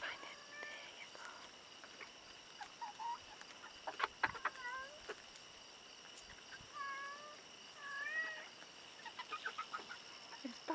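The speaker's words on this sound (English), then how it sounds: "There's the barn cat." A barn cat gives a few faint, drawn-out meows in a quiet farmyard, with chickens clucking softly nearby among scattered clicks and rustles.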